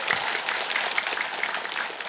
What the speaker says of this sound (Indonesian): tepuk tangan Bu semuanya Bu